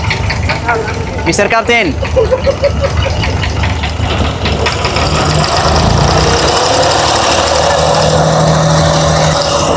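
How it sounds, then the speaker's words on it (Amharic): A boat engine idling in Dubai gives a loud, steady mechanical drone with a rough, knocking texture, running continuously under a voice that talks over it. "እንግዲህ ሞተሩ እዚህ ጋር ነው"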